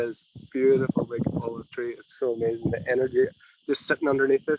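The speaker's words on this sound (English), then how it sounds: "You can probably hear some cicadas in the background as well" Steady high-pitched cicada drone sustained in the background outdoors beside a big olive tree, continuous beneath close conversational speech throughout.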